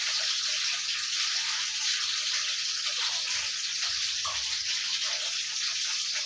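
Water runs steadily from a tap while brinjals are washed clean before deep frying, a continuous close hiss with faint splashing and no voices.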